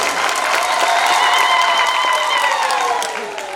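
Audience applause at a Nkandla integrated service delivery programme gathering, a sustained crowd clapping and cheering at steady loudness that fades slightly near the end.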